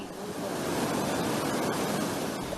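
Typhoon-driven surge waves crash onto a waterfront pedestrian walkway, producing a dense, loud wash of turbulent water and gusting wind that swells slightly midway and stays steady to the end.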